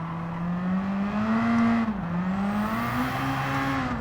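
Engine of a turbocharged race car in Gran Turismo 7 drones steadily and close, dipping briefly as it shifts and then pulling on again with rising pitch.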